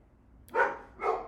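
Two quick barks from a dog nearby, a short pause between them, each loud and clear against a quiet background.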